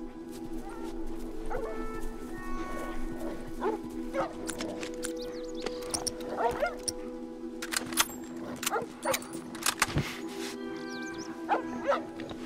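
Dogs in The Last of Us video game bark, yip and whimper in short repeated bursts over a steady hum of game music and ambience, with a person talking over them.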